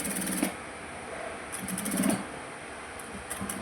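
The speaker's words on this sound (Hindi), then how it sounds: "फिर से फुट को नीचे रखना है और यहाँ पे अपन को सिलाई डालना है।" A sewing machine stitches a princess cut blouse in short runs, its rapid mechanical whirr starting and stopping in bursts over a low, steady background hum, close by and with no talking.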